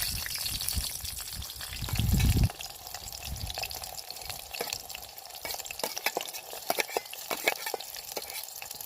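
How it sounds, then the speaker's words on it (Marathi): Onion and chillies frying in hot oil in a pan by a riverside, a soft sizzle with stirring scrapes, a louder burst early on, then faint crackling throughout. "कांदा तर कांदा टाकून घेते बघा कांदा आणि मिरच्या टाकणार"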